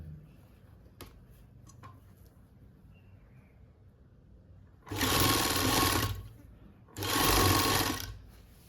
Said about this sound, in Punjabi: ਹੁਣ ਆਪਾਂ ਥੋੜੀ ਜਿਹੀ ਸਲਾਈ ਮੋਟੀ ਕਰਕੇ ਇਹਦੇ ਉੱਪਰ ਸੀਨ ਲਾ ਲਓ